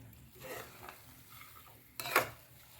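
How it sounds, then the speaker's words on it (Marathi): A spoon scrapes and stirs a sticky mixture of jaggery and garden cress seeds for ladoo in a metal pan, with soft scraping strokes and a sharper clank of utensil on pan near the end. "आता हे आपण हलवत राहायचे थोडा वेळ म्हणजे खाली लागणार नाही"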